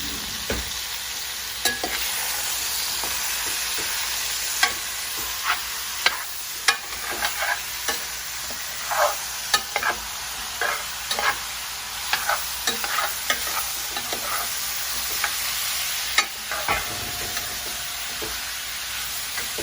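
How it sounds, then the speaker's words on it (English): Cajun jambalaya sizzles and fries steadily in a pot while a utensil scrapes and clicks against the sides in irregular stirring strokes. "now that that's good mixed and it's all started frying"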